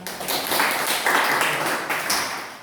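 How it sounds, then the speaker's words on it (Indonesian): Students in an Indonesian classroom clap their hands together in a brief, dense burst of applause lasting a couple of seconds. "Tepuk tangan."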